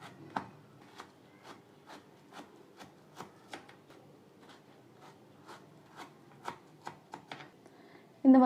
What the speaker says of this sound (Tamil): இந்த மாதிரி நம்ம கட் பண்ணிக்கலாம்.